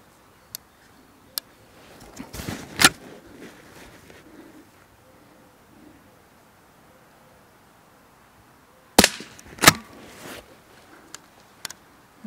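Blaser R8 rifle shots on a range: a sharp loud report around the third second, then two more close-together blasts later with short echoing tails, separated by quiet stretches and a few faint clicks.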